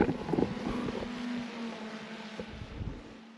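A drone flying overhead at an off-grid homestead gives a steady, droning motor hum that holds a constant pitch, with gusty wind buffeting the microphone at the start.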